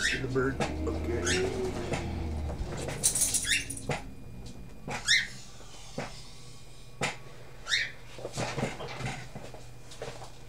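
A pet bird coos softly in an indoor room, with several short, faint calls spread out. Someone talks over the sounds now and then, and a dog is near.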